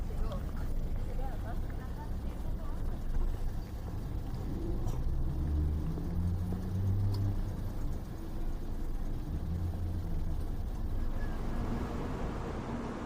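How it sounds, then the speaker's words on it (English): Inside a moving Kintetsu Limited Express Vista car, a steady low rumble of wheels and motor carries on throughout, with tonal whines rising and falling, while a person talks over it. "Now, let's board the Kintetsu Limited Express."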